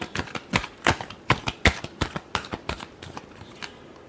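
Tarot cards are shuffled by hand in a quick series of crisp, papery riffling slaps, about a dozen close snaps in an uneven rhythm, with no voice over them.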